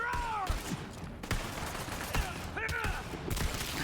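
Bursts of gunfire from Borderlands 3 played in VR, a series of sharp repeated shots spaced through the stretch with whooshing sweeps, fairly faint overall.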